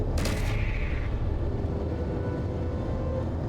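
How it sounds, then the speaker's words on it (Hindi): A hydrogen fighter in Space Engineers lets off a brief burst of weapon fire right at the start, a sharp crackling shot that quickly gives way to a steady low engine drone. "दूसरा शॉट बहुत ही बढ़िया।"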